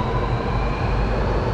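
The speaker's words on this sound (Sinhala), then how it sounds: "අපි ආපු කොච්චියම යනවා" A driverless Sydney Metro train pulls away from a station platform with a loud, steady, low rumble and a continuous mechanical whine, heard up close with no talking.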